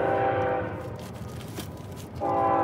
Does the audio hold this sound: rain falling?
no